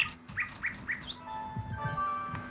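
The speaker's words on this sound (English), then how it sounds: "Enjoy the mechanical nightingale and feel free to bring it back anytime." A mechanical nightingale in the King's Quest VI game chirps in a run of quick, bright, rising tweets. Game music plays softly underneath.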